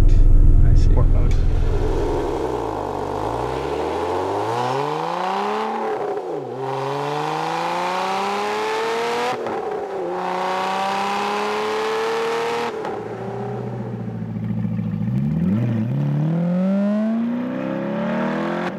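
Exhaust revving from a Lotus Emira or C8 Corvette sports car in sport mode, with repeated loud rises and falls in engine pitch, close by and continuous, and voices talking over it.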